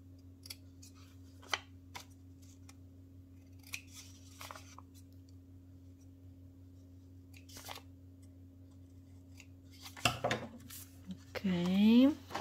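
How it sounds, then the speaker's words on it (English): Scissors snipping paper scraps and threads while making a small junk journal, with a few faint, sparse cuts over a steady low hum and a louder rustle and snip near the end. "I will cut these scraps and threads."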